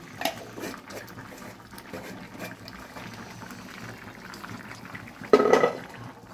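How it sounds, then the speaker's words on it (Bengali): Bengali shukto vegetable curry boiling in a pot, a low soft bubbling simmer heard close, with a brief louder clatter or splash near the end. "ফোটার পর ফুটতে থাকুন"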